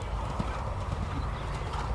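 A dressage horse canters through flying tempi changes, its hooves producing a steady rhythmic clip-clop within a broad wash of arena ambience.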